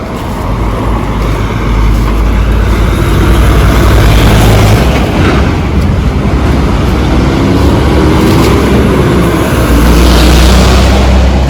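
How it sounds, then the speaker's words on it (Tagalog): Large trucks rumble past on a busy road, a loud, steady roar of heavy engines and tire noise with passing vehicles swelling and fading, recorded close beside the traffic. "Ang daming malalaking truck na dumadaan kaya maingay."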